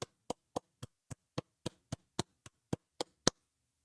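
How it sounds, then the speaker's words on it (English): Applause on a live stream comes as a single person's sharp, evenly spaced claps, about thirteen in a steady beat, close and distinct against near silence, the last one loudest. "Everybody give him a round of applause."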